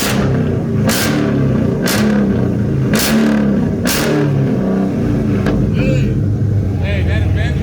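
A loud, rumbling Dodge Scat Pack 392 engine with mid-muffler and muffler delete idles close by, its throaty exhaust rising and falling with several sharp revs in the first half.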